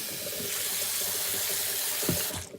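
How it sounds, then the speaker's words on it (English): Tap water runs steadily into a plastic bottle as it fills, a continuous broad rushing close by, with a brief gurgle toward the end before the flow cuts off. "some water in this bottle"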